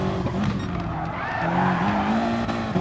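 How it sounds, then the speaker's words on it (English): A race car in a racing game slides under the handbrake at Blue Moon Raceway, its tires squealing in a sustained skid over a steady engine drone. "If you want to grab the handbrake, boys, you grab the handbrake"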